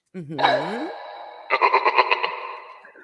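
A novelty Halloween doorbell sounds off loud and close, first a swooping, echoing voice-like tone, then a quick run of bright chime pulses, with a person murmuring briefly.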